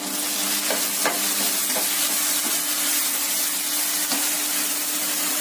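Steady frying sizzle from a pan of moong dal bath as mint leaves go in, with a few soft scraping stirs of a spoon breaking through the continuous crackle, close and fairly loud, no voices.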